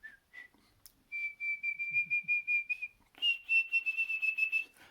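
A person whistles on the exhale to imitate a bird: two brief notes, then a long run of pulsing tones at one pitch, and after a short pause a quicker, brighter pulsing series, clear and close.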